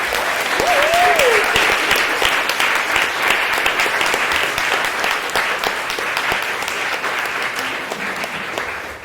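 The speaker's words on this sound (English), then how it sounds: "So can we just give them another round of applause?" Sustained audience applause for performers after a show, a dense steady round of clapping lasting the full nine seconds, with a brief whoop or cheer near the start.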